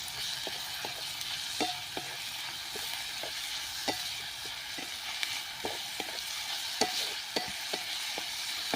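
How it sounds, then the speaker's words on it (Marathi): Ground green chili and garlic paste sautés in a pan for a drumstick-flower vegetable dish, giving a steady close hiss broken by sharp spatula clicks and scrapes spread irregularly through the clip. "परतून घेऊया"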